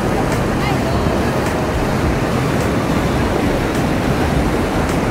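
Waterfall at Gooseberry Falls swollen with spring meltwater, a steady, loud, broadband roar of rushing water that never lets up, close to the listener with no break.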